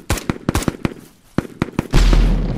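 Gunshots in the extraction shooter EXFIL crack out as a rapid string of sharp, close reports, a brief lull, a few more shots, then a sustained loud blast that lingers at the end.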